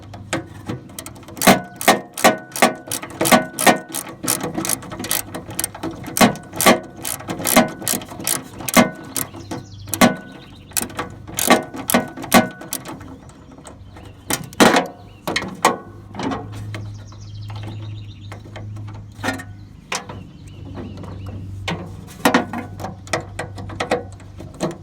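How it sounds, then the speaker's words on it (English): A hand ratchet loosens a bolt on the starter solenoid of a riding lawn mower, producing close, crisp clicking in quick bursts and longer runs, with brief gaps and a low background hum. "Loosen this one up just a little bit more."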